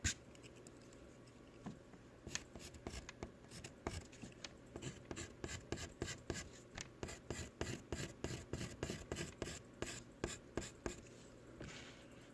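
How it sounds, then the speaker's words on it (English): A rubber eraser rubs back and forth across a pencil drawing on paper, a copy of Starry Night, in a steady run of quick, close, raspy strokes that goes on throughout with no talking. "so I'm going to erase that one"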